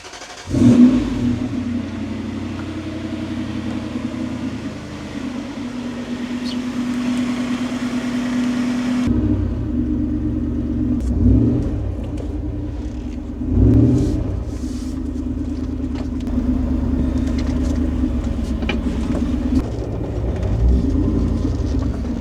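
A Toyota 4Runner engine is jump-started with a jump pack, cranking and catching before settling into a steady rumbling idle, with a few revs that swell and fade, close by.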